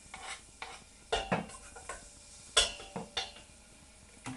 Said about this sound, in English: I've got 2 finely chopped fat cloves of garlic here, which I'm going to add to the pan and cook gently for a few seconds